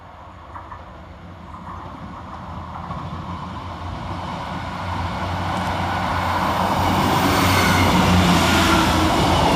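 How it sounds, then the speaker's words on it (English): Two coupled East Midlands Railway Class 158 diesel units pass Woodhouse station on a diverted Nottingham to Sheffield service. Engine rumble and wheel noise swell steadily louder as the train draws nearer and hold alone to the end. "right on his heels is 158799 and 158788, working 1 Tango 60 for East Midlands Railway from Nottingham to Sheffield"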